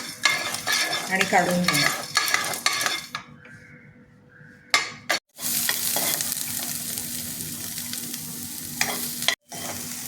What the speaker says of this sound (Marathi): हा खडा मसाला आपण आधी भाजून घेऊ, थोडासा भाजायचा